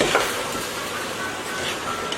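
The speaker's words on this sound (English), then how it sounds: "you keep stirring that until all the juice is dried and it's no more juicy" Spiced beef mince for samosa filling sizzles in a hot pan while being stirred, a dense continuous frying hiss with soft scraping throughout.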